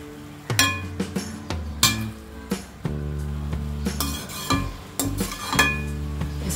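A spoon stirs dry sesame powder into a chawli (long bean) stir-fry in a pan, giving repeated clinks and scrapes over steady tonal background music.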